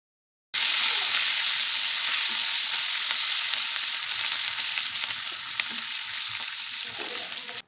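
Asafoetida frying in hot oil for bisibele bath gives a loud, steady sizzle. It starts abruptly and holds as a continuous close crackling hiss, with no talking.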